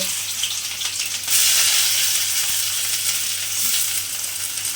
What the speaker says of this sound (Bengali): এই কাঁঠাল দানাগুলো আমি তেলের মধ্যে দিয়ে দেব।